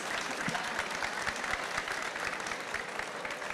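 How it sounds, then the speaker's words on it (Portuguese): An audience at the Abrin Talks event applauds the guests with steady, sustained clapping from a moderately sized crowd. "Eu peço aplausos para os nossos convidados."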